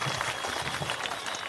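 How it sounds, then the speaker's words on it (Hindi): Crowd at a village public gathering in Mahua, Supaul, Bihar, clapping for Prashant Kishor: a dense, steady wash of applause at moderate level, continuous for about a second and a half with no speech over it. "एक बार जोरदार ताली बजाइए आदरणीय प्रशांत जी।"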